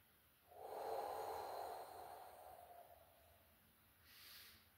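A single slow, deep inhalation during a gentle garden-style yoga session, a soft close airy draw through the nose that swells and tapers over a few seconds, with no talking.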